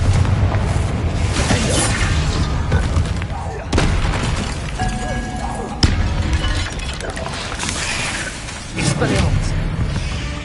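Confringo fire spells burst repeatedly in Hogwarts Legacy, loud booming blasts spaced a few seconds apart over continuous game ambience and music, with someone speaking over them.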